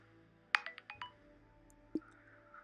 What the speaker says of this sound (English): My phone is popping off right now.